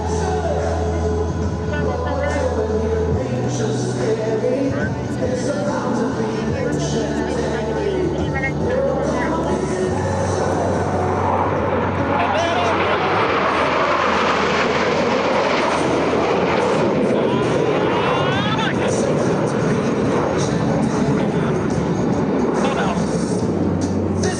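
US Navy Blue Angels jets pass at an air show, a loud sustained roar that swells and shifts in pitch, with an announcer talking over it throughout.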